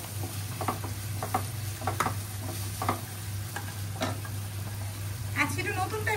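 Onions fry in a pan as fish charchari is cooked, a soft steady sizzle broken by repeated scraping stirs from a spatula, with people chatting in the background and a low electrical hum underneath.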